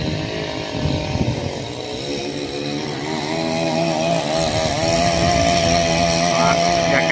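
A chainsaw whines and revs as it cuts into wood, loud and close, its engine pitch rising and settling in sustained bursts.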